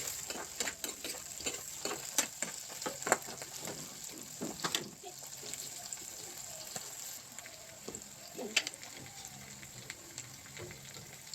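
Palak paneer being stirred and fried in a pan, with a steady soft sizzle under repeated scraping and clinking strokes of a spoon against the pan, fairly close and at moderate volume.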